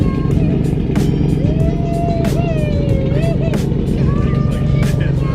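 Vehicle engine fitted with new blast pipes exhaust revs loudly and steadily nearby, a deep continuous roar, while people talk and exclaim over it.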